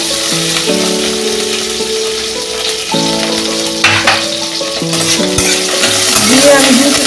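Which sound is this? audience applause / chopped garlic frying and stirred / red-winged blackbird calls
chopped garlic frying and stirred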